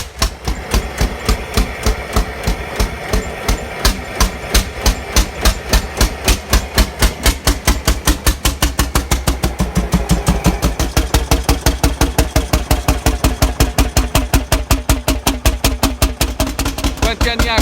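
An old Super Orsi tractor engine runs close by, loud and evenly paced, a steady fast thumping beat that quickens slightly partway through, with no other sounds over it.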